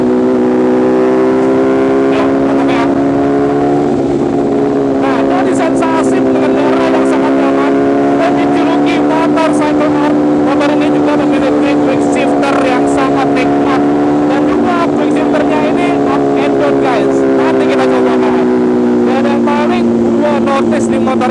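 Four-cylinder engine of an MV Agusta Brutale 1000 motorcycle, a steady loud mid-pitched drone with gently rising and falling revs throughout, with sharp clicks and bursts over it.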